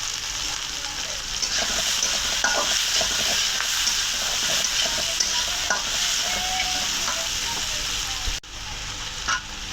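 Onions sizzle in hot oil for a stinging catfish curry, a steady close frying hiss with occasional stirring scrapes and clinks, briefly dipping near the end.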